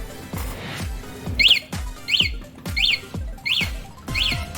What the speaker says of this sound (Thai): เป็นเสียงเตือนพร้อมแสงไฟเลี้ยวสั้นๆครับ